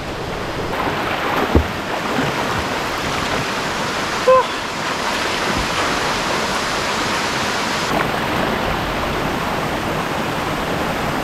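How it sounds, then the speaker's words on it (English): Tamaraw waterfalls in Puerto Galera, a dense continuous rush of falling water close by, with a couple of brief knocks over the steady roar. "That's the Tamaraw waterfalls, as I have shown you a while ago."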